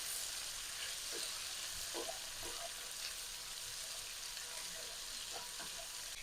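Chopped ivy gourd pieces sizzle in a pan for a dry coconut fry, a soft, even hiss of frying that carries on throughout with a few faint stirring scrapes.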